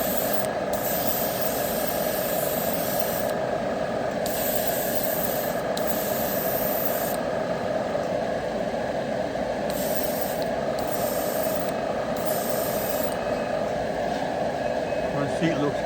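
A spray gun lays a final coat of paint on the front seat of a 1956 Chevy Gasser with a continuous loud hiss, close and steady, and a few brief breaks in the spray.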